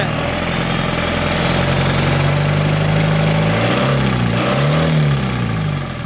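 An Isuzu 4HE1 150-horsepower diesel engine running close and loud, its steady rumble rising and falling through a couple of revs, with no talking.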